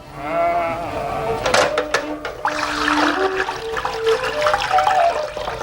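Domestic sheep and goats from a family herd on the Silk Road in western China bleat in wavering, nasal cries at close range, one call rising above a steady wash of rushing, water-like noise and other animals.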